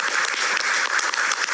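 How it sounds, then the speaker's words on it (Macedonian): A television studio audience applauds at the end of an evening show, with dense, even clapping that stays loud and continuous for the whole short stretch and has no voices over it. "Ето нова аплауз за Илија, неговото семејство и за нашите гледачи"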